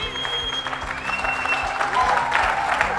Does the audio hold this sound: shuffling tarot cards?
no